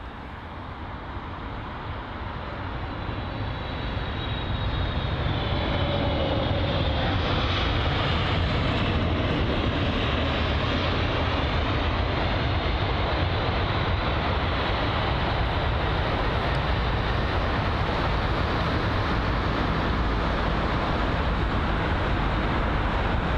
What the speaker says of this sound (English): It's going to be the Saudi Boeing 777 from Riyadh.